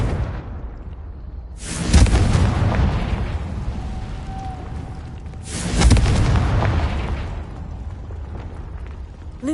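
Two booming Confringo fire spell explosions in the game Hogwarts Legacy, each a loud, sudden blast followed by a rumbling decay, spaced about four seconds apart.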